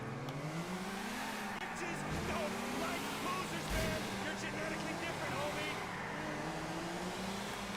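A car in Grand Theft Auto IV drives with a steady engine drone whose pitch rises and falls as it strains along, with a brief louder burst near the middle and voices faintly underneath.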